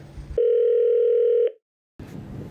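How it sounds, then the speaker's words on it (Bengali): A single steady telephone ringback tone sounds while a call is placed, holding for about a second alone before cutting off into silence, with brief talk just before it. "ভাই অন্তহীনকে ফোন কর।"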